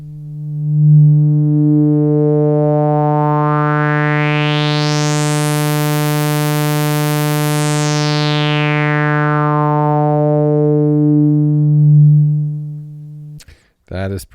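Yamaha CS-5 synthesizer sawtooth wave through its low pass filter, one sustained buzzy note whose brightness sweeps slowly open and then closed again, loud and close, ending with a brief voice.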